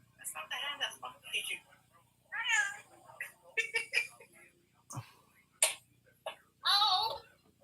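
Several cat meows, one of three household cats including a tabby and a black cat, come in short bursts between quieter gaps and are heard up close alongside light tapping.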